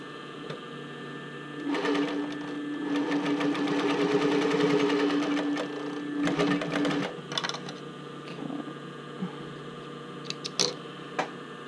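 A sewing machine stitches spandex swimwear bra cups, a steady close mechanical whir running for several seconds, then stopping and restarting in short bursts with small clicks.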